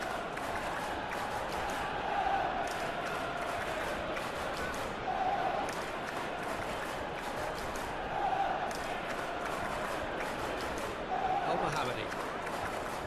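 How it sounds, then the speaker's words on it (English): Football stadium crowd at a Premier League match between Aston Villa and Manchester United, a steady roar of thousands of fans with recurring swells of cheering, heard under a commentator talking throughout. "Well, the crowd clearly like what they just saw."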